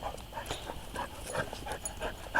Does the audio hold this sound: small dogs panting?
yes